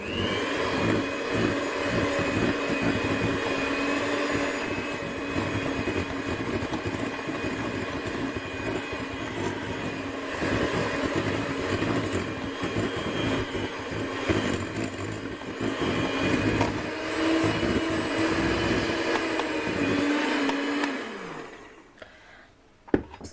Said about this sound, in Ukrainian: гарно ще раз пробиваємо все міксером